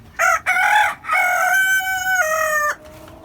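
A rooster among free-range country hens on a small homestead lets out a loud, close, drawn-out crow in several rising and falling segments after a couple of short clucks, then falls quiet.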